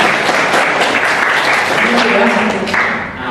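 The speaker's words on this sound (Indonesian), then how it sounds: "bagus sekali, ya. Tepuk tangan buat." A classroom or lecture audience breaks into loud, close applause, a dense continuous patter of clapping that fills the room throughout, with a voice briefly heard underneath toward the end.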